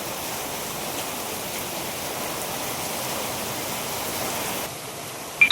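Heavy rain pours down steadily on a village at night, a dense, loud, unbroken hiss that holds constant for several seconds before easing slightly near the end.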